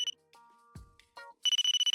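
A phone ringtone plays, a short electronic chime followed by a fast run of bright repeated beeping pulses, loud and close.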